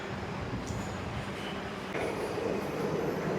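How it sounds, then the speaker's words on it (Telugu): A Vande Bharat train runs steadily toward a bridge, giving a continuous, fairly close rumble of wheels and carriages that holds even throughout. "చూడండి ట్రైన్ అయితే వెళ్తుంది"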